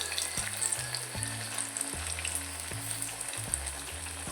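Onion vadas fry in hot oil, giving a continuous close sizzle and bubbling with a few soft knocks and scrapes as pieces are turned one by one.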